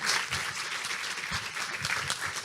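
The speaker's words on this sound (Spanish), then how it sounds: "les pido un fuertísimo aplauso para Maxi Guerra y su Gastropolítica." A live audience applauds a speaker taking the stage at a talk, a full steady wash of clapping with scattered cheers throughout, moderately loud.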